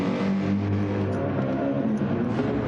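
A Porsche race car in Gran Turismo 7 at Trial Mountain gives a continuous droning engine note with slight shifts in pitch, loud and close throughout.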